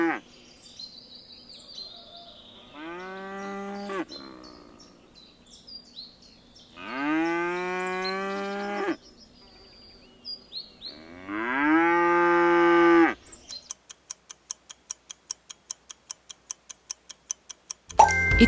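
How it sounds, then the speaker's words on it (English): A cow moos three times, each call long and loud with quiet gaps between, followed by a steady ticking like a clock running alone at the end. "It's a cow."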